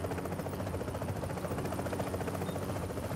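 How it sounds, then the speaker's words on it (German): A helicopter in the video game The Division churns with a low, continuous rotor throb and engine hum, steady and fairly close with no talk over it. "Ah ja, da kommt ein Hubschrauber."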